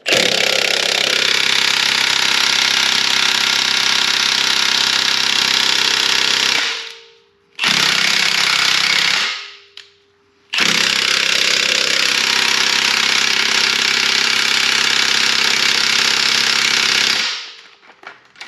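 An impact wrench hammers at a ball joint nut on a 1999–2004 Jeep Grand Cherokee WJ, loud and close, in three long sustained rattling bursts separated by short pauses, with no talking.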